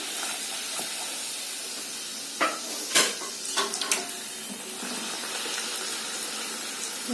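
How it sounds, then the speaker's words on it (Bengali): Luchi puffing in hot oil in a kadai, a steady sizzling hiss with a few sharp crackles and spatters partway through, close and fairly loud, with no talking. "বন্ধুরা, যে আমি এবার একে একে লুচিগুলো এইভাবে ভেজে নেবো"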